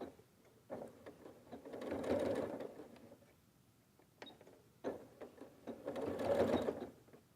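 A sewing machine stitches a pocket corner fold on pants in two bursts of rapid mechanical whirring, with a brief pause and a short back-stitch stutter between them, close and fairly quiet.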